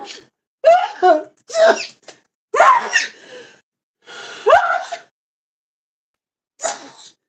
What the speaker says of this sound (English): Who about to sneeze?